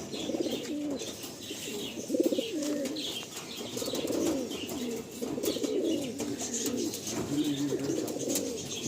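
Andhra pigeons of the Machilipatnam breed at a loft in Kolkata, cooing in steady overlapping low rolls close by, with faint chirps and a brief flutter of wings mixed in.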